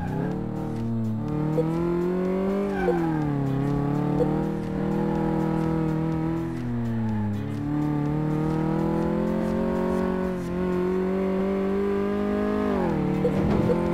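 A car engine in Car Mechanic Simulator 2018 drones steadily and close, its pitch climbing and dropping through gear changes as the car accelerates and shifts repeatedly, without any voices.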